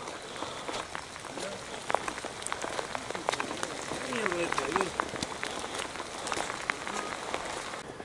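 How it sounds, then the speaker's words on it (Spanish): Steady rain pattering on a surface with scattered drops while people fish nearby, talking and moving around throughout. "Abajo de la lluvia, mirá."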